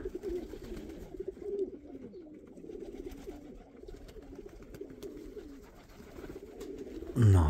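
Pigeons coo repeatedly in a loft, a string of low, rolling calls overlapping one another at moderate distance, ending in a short loud thump.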